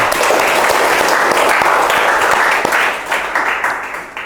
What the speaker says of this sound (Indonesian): Tepuk tangan dulu dong buat tamu kita pada hari ini.